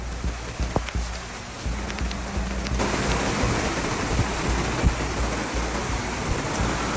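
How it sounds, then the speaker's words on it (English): Heavy rain pours during flooding in Danjiangkou, Hubei, a dense steady hiss of falling water with a few sharp drips and knocks near the start, continuous and moderately loud throughout. "Hubei issued a red warning signal for heavy rain as water levels continued to rise."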